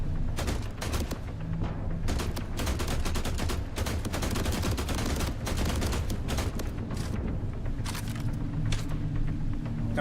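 Rifle gunfire rattles through a video game fight aboard a moving ship, in loud, rapid bursts and clustered volleys that repeat almost without pause for ten seconds.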